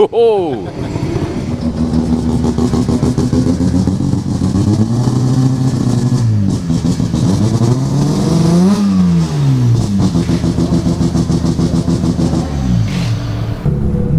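A race car circuits Morgan Park Raceway near Warwick, its engine loud and close, revving hard through rising and falling gear changes while a voice talks over the top.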